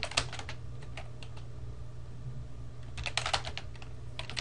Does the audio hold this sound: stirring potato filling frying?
no